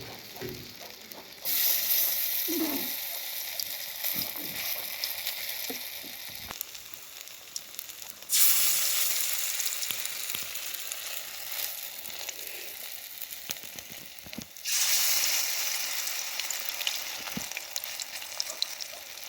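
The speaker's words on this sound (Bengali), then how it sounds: "এই বড়াগুলো কিন্তু মাংস দেওয়ার জন্য একটু অল্প আঁচে ভাজতে হবে। আমি কিন্তু অল্প আঁচে ভাজতেছি।" Beef chop patties fry in hot oil over low heat with a steady, close sizzle that swells in three louder bursts as fresh pieces go in or get turned.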